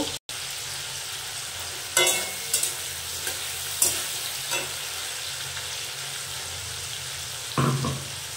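Spice paste and tomatoes frying in a pan for jackfruit curry, a steady low sizzle broken by a few sharp scrapes and clatters of stirring, close and alone.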